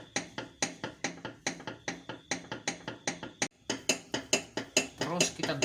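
Rhythmic metallic scraping strokes, steady and close, scrubbing a sanded metal martabak baking pan back and forth, with no one speaking.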